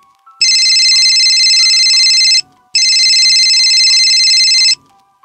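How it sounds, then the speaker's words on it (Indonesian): Telephone ringing in two long, loud electronic bursts with a short gap between them, close and alone. "Telepon terus berbunyi."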